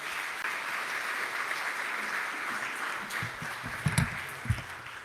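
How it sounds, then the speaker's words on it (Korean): Church congregation at a Sunday family service applauds in a soft, distant wash to welcome a speaker, steady throughout with a few sharper knocks near the end. "나오실 때 큰 박수로 환영해 주시기를 바랍니다."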